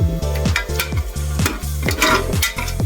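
Oil with ginger and garlic sizzles in a pan for chicken biryani while a utensil scrapes and stirs in a steady repeating rhythm, close and fairly loud with no talk.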